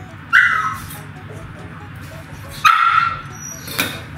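A pet dog in a home in Ajman, UAE, barks and whimpers for food in three sharp, close, high yips spaced a couple of seconds apart over low background noise.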